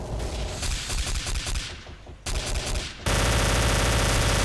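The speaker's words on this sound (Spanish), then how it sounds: "Voy a tirar una ráfaga." Automatic weapon fire from the World War II shooter Day of Defeat: Source erupts in loud, rapid bursts of gunshots, with a short pause before a sustained, dense stretch of shooting fills the end.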